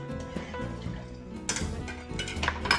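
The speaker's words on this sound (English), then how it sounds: "Now I'm just going to stir this up" Rice with peppercorns and a bay leaf being stirred in a rice cooker pot, giving close scraping and clinking of a utensil against the metal bowl in irregular strokes, with louder knocks near the end.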